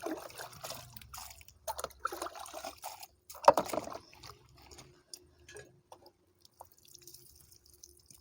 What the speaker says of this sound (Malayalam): ഓക്കെ അപ്പോൾ കപ്പ കഴുകാണേ